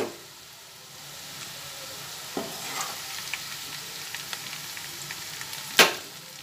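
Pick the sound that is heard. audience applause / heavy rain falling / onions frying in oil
onions frying in oil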